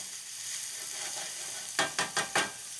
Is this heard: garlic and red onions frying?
yes